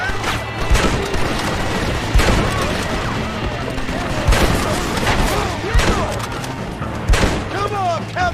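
Machine gun fire in the Red Dead Redemption video game, a loud sustained clatter of bursts with heavier booming impacts every second or so, continuing for several seconds.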